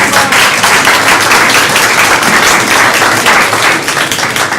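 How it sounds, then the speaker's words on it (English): A lecture audience gives a loud, dense round of applause for panel organizers. Many hands clap steadily and close by for several seconds without a break. "So let's give them a round of applause."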